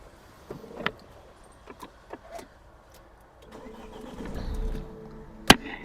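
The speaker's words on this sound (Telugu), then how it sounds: "సింగిల్ సెల్ఫ్ అయితే వెహికల్ అయితే స్టార్ట్ అయింది చూడొచ్చు" A 2016 Mahindra XUV500 W10 diesel with push-button start: a few quiet clicks and taps, then a short starter crank and the engine catching into a low rumble, ending in a sharp click nearby.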